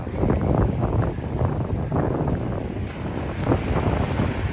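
Tropical storm Elsa's winds buffet the microphone on the Southwest Florida coast, a loud, continuous roaring rush with gusty swells and a low rumble, with no voices.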